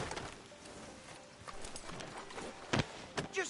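Horse hooves clip-clop at a walk in a PS4 video game, a soft, fairly quiet rhythm of steps with a few louder thuds near the end.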